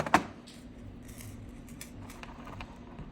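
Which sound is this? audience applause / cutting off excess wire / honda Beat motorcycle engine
cutting off excess wire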